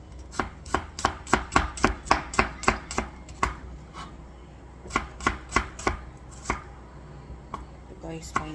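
Onion being finely chopped on a board for Indian burger patties, a rapid run of crisp, close knife strikes, then a brief pause before another quick burst of evenly spaced chops and a few lighter taps.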